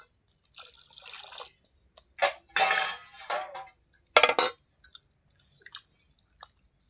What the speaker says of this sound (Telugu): 2 గ్లాసుల నీళ్ళు పోసి పిసుకోవాలి.